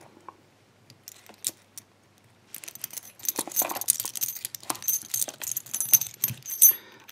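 Keys jangle and clink as a cross lock and its keys are handled up close, a few sparse taps at first, then a busy stretch of metallic rattling and scraping.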